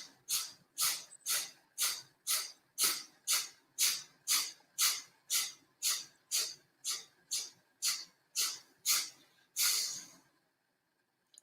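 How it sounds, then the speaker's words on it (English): Rapid short nasal sniffs taken as a breathing exercise, about sixteen evenly spaced, airy bursts in a brisk steady rhythm, close and fairly loud, ending with one longer breath and then silence. "Belly goes out, and then 20 little sniffs."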